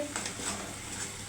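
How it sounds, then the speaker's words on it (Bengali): Spices frying in a pan for Bengali doi chingri, a yogurt prawn curry, give a steady close sizzle with soft stirring scrapes throughout, no voices. "মশলাটা অল্প ভাজা হোক"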